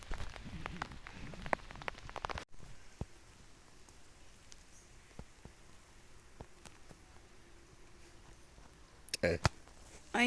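Light rain falls during several days of bad weather in a rural village, a steady fine patter of drops on surfaces with scattered louder close taps and brief rustling bursts.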